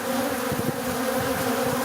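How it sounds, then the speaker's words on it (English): Bees, including drones, swarming and buzzing around a hive entrance, a dense steady drone of many insects heard close up, no voices. "If you know what those bees are that are going inside this hive"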